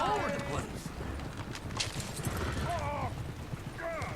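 Horses in the Red Dead Redemption 2 video game clip-clop in a steady rhythm, mixed with whinnies and shouting voices in a busy scene.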